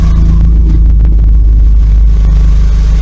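A Fiat Doblo engine idles with a new exhaust system fitted, giving a loud, close, steady low rumble with a few faint clicks on top.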